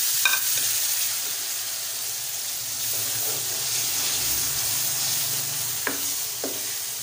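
Tomato and spice masala sizzles steadily in a pan, with occasional scrapes and knocks of a spoon stirring it; a continuous close frying hiss with a few sharp clicks near the end.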